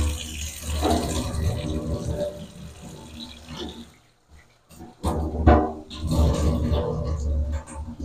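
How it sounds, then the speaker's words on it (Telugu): Soaked moong dal sloshed and rinsed by hand in water in a home kitchen, with swirling splashes and running-water noise in two bursts around a short pause, and a voice talking over it. "ఇంకొకసారి అయితే నీట్గా క్లీన్గా వాష్ అయితే చేసేసుకుందాం"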